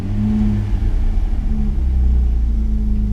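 A motor runs after tuning, with a freshly hooked-up low K unit, holding a steady rumbling idle slightly high, close and continuous with no voices over it.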